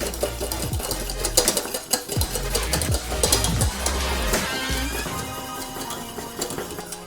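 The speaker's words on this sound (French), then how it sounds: "Bien faire attention de toujours remuer votre crémeux" A spoon stirs and scrapes lemon cream around a metal saucepan, with repeated clinks and swishing strokes, fairly close and continuous.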